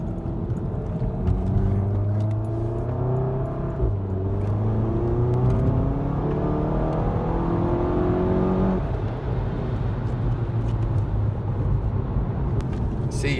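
A VW GTI MK7 with a Stratified stage 2 tune revs hard through repeated climbing pulls, each rising whine cut off by a brief drop before building again, loud and close from inside the car.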